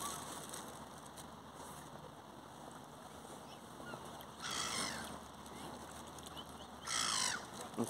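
Seagulls call while being fed bread near swans by a park, harsh squawks rising in two loud bursts over steady outdoor background noise.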